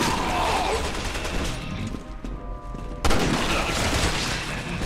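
Rapid gunfire in Resident Evil 6 during a co-op session playing as Ada, a dense barrage of loud overlapping shots that dips briefly in the middle before bursting back in full force.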